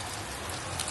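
Hail falls steadily in a sudden ice storm, a dense continuous patter of hailstones striking surfaces, loud and even for the whole second with no voices.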